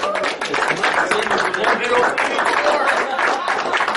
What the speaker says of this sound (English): Give Sam a round of applause.